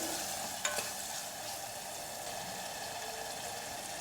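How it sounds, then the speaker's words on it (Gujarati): A mixture sizzles steadily in a hot pan while a utensil scrapes and stirs through it, with one brief clink near the start. "ફરી એકવાર બધું સારી રીતે મિક્સ કરી લઈએ."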